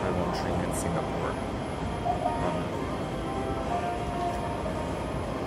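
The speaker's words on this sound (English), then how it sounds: "I'm going to take you on a Siemens C651 train in Singapore" Siemens C651 train on the Singapore MRT North South and East West lines, one of 19 put into service in 1995, giving a steady loud rumble and whine of a carriage in motion throughout, with no gaps.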